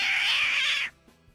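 A human voice imitates a cat in a cat-and-dog fight, one drawn-out yowling caterwaul that cuts off abruptly after under a second, followed by near silence.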